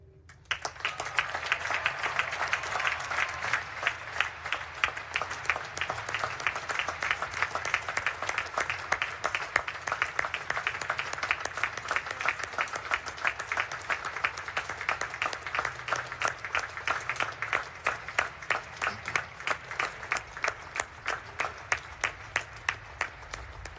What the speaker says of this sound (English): I feel it is appropriate to acknowledge Taylor with a round of applause on this day to celebrate his life